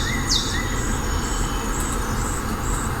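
Forest ambience with birdsong played through the sound system of a 2020 Hyundai Sonata: a steady broad rustling bed with a few sparse, light bird chirps and whistles drifting over it, continuous and fairly even throughout.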